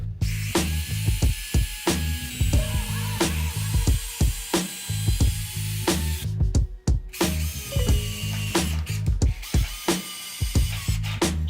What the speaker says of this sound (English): I clamped this side so I can screw it right in